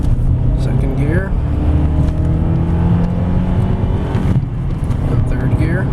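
A 2003 Honda Accord EX with a five-speed manual accelerates hard in second gear, its engine droning loudly up close with a rising whine and cabin rumble. A voice speaks briefly over it.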